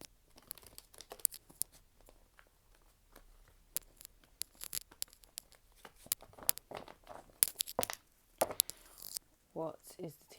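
Tarot cards are shuffled by hand in a run of quick, close riffles and papery snaps, with irregular bursts separated by short pauses, and a voice speaks briefly near the end.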